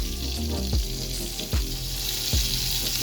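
Onions, tomato and pepper grilling in a pan, a steady sizzle with low rumbling and three dull knocks or thumps spaced about a second apart.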